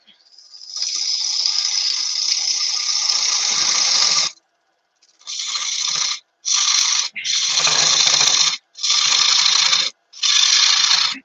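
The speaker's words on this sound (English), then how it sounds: "Go back in with the spindle gouge and put some profile on that." A spindle gouge cuts wood on a lathe, giving a steady broadband hiss for about four seconds, then a series of shorter cutting passes separated by brief pauses, close and fairly loud with no talk.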